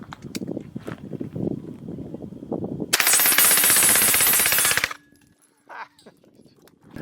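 A rifle empties a 30-round magazine in one sustained burst of rapid, loud shots lasting about two seconds, preceded by nearby shuffling and followed by quiet handling sounds.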